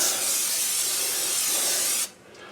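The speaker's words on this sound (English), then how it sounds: "a little bit of spray action on there" A close, steady hiss of cooking oil spray onto frozen cod fillets lasting about two seconds, then cutting off abruptly.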